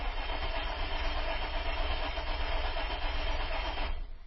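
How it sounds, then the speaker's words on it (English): An Isuzu car engine being cranked without starting gives a steady, dense mechanical churning that runs unbroken and fairly loud, then drops away at the end, with no talk. "So let's try cranking it, and I'm fixed onto the tachometer, see if we got evidence of tach signal."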